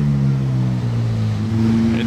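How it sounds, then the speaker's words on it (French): A parade of Ferraris, a 296 GTS, an 812 GTS and a 458 Speciale, passing with a loud, steady engine drone whose pitch shifts slightly as the cars go by. "Regardez le défilé de Ferrari, 296 GTS, 812 GTS et la 458 Speciale."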